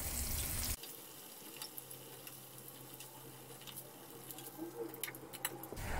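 Pork ribs deep-frying in hot oil, a steady fine crackling sizzle with scattered pops, close up and fairly quiet, with no talk.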